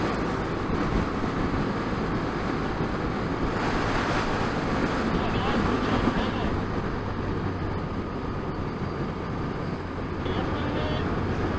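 Strong wind blows at Bridge of Oich in Scotland, a steady, loud roar and buffeting across the microphone that runs unbroken throughout, with a faint voice partly buried in it.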